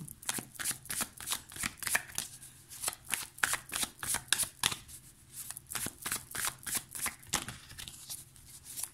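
Tarot cards from the Light Seers Tarot deck being shuffled by hand, a steady run of quick riffling bursts repeated close-up for the whole stretch, with no talking.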